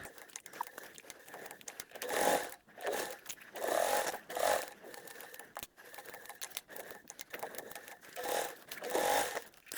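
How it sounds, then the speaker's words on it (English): A domestic sewing machine without a flatbed, raised off the table, stitching a bag in short bursts of whirring needle runs separated by brief pauses and rustling fabric. "I don't have a flatbed sewing machine. So what that means is my sewing machine is elevated up off the table."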